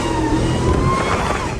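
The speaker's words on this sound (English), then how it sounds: "Dude, the exhaust makes it sound scary." A Dodge Hellcat Redeye fitted with valved mufflers runs with a loud, steady engine drone and a faint rising whine. The sound stays close and constant over the short span.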